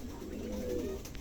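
King pigeons coo in a low, continuous murmur that fills a short moment, close and steady, with no talking.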